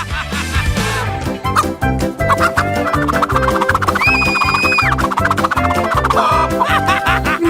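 Cartoonish chicken clucks from a mystery-buttons challenge game pop up over loud, bouncy electronic game music with a thumping beat.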